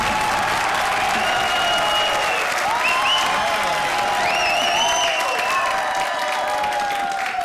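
Sustained, loud studio audience applause with cheering on the set of a Hindi TV comedy show, a dense wash of clapping filling the whole stretch with no speech over it.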